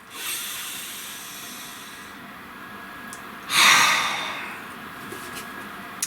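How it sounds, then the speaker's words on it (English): A slow, deep breath drawn in, rising into a broad airy rush near the middle and then fading, heard alone in a quiet room with faint background hiss. "Nice deep breath."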